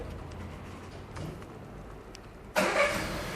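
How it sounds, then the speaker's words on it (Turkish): A 2016 Volkswagen Golf 7 engine starting: after a quiet stretch with faint clicks, the engine catches abruptly near the end and settles into a louder, steady run close by, with no talking. "Çalıştırın arabayı."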